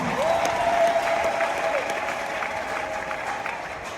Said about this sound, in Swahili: Piga Yesu makofi kama leo.